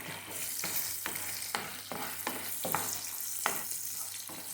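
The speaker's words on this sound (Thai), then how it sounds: "ขยีไข่" Eggs being stirred and fried in a pan while cooking a fermented fish stir-fry, with a steady sizzle broken by repeated scraping strokes of the utensil, close and moderately loud.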